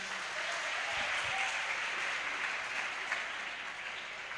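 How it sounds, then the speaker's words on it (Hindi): Sustained applause from a studio audience at a Hindi film interview event, a dense, steady wash of clapping heard alone and fairly distant for about four seconds. "एक बार इनके लिए जोर से तालियां बताइए"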